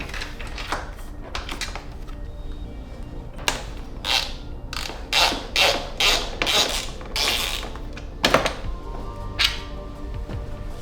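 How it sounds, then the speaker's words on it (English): A hand tool loosens the rear suspension bolt on a Beta XTrainer motorcycle, giving bursts of close metallic ratcheting clicks in quick runs with short pauses between them. "So we can get underneath, and then loosen up the bolt for the suspension."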